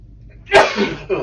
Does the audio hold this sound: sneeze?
yes